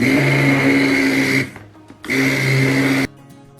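A stick blender pulses through cold process soap batter in two loud, steady whirring bursts of about one and a half seconds each, separated by a short quiet gap, with no talking.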